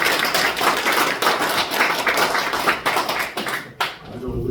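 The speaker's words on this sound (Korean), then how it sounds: "환영의 박수 감사합니다." A congregation applauds during a Sunday morning church service in Incheon with dense, continuous clapping that thins out near the end, where a voice is briefly heard.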